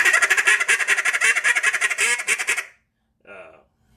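A duck call blown in a rapid rhythmic string of loud quacks, then a pause and one short final quack.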